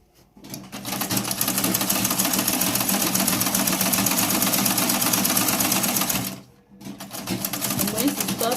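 A sewing machine runs steadily, stitching a straight inseam side pocket seam at half an inch, its fast rattling hum close and continuous, then it pauses briefly and restarts.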